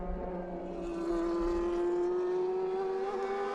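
Aston Martin and Porsche race cars at Inje in the 2013 Asian Le Mans Series, engines holding a steady, loud rising drone as one overtakes the other, a sustained roar that climbs gradually in pitch.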